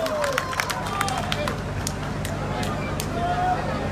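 A political rally crowd in Rohtak claps in a loose, scattered patter of hand claps over a busy murmur of people, continuing steadily throughout.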